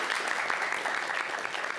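A lecture audience applauding, a steady wash of many hands clapping at moderate volume for under two seconds, heard alone without speech.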